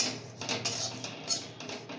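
Gram flour (besan) being stirred in a pan while making kachori, a steady close scraping and light metallic rattle that continues for the whole stretch, with no talking.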